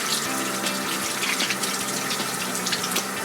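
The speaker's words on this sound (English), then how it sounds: "Now we're going to want to rinse really well." Tap water runs steadily from a faucet into a sink while soapy hands are rinsed during handwashing, a continuous close splashing flow for the whole stretch with no talking.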